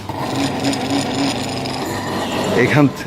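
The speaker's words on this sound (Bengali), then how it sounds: "কিভাবে সেই পাথরকে ঘষে তারা বিভিন্ন রকম মণি এবং বিভিন্ন রুবি সাফায়ারগুলোকে তারা প্রস্তুত করে" Rubies and sapphires being ground and polished against a stone at a Sri Lankan gem workshop: a steady, close abrasive rasping that runs throughout, with a voice rising briefly near the end.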